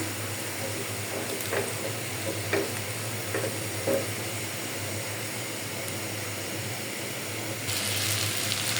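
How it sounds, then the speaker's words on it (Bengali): Onion, garlic and nigella seeds fry in a pan with a constant moderate sizzle over a low electrical hum, broken by occasional spoon scrapes, and the hiss grows briefly brighter near the end. "আমার পেঁয়াজ আর রসুন কালি জিরা বাজা হয়ে গেছে"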